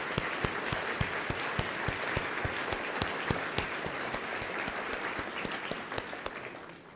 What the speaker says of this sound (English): Can you please stand up and accept a round of applause from all of us